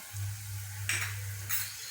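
Beef with fennel powder and spices is stirred in a hot pan, a soft, low sizzle with a couple of brief scraping stirs, quiet and close by.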